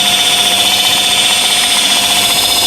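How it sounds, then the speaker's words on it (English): A power polisher runs on car paintwork to flatten and polish a fine scratch, a loud, steady, close whine holding constant throughout. "what I'm going to do is just flat and polish that scratch to improve it without having to touch it in"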